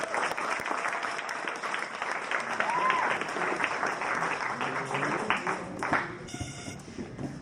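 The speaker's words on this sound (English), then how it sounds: "Can I have a round of applause for our presenters?" An evening audience claps for presenters of an interns' summer summary event, sustained dense applause with a few cheers and murmurs, tapering off near the end.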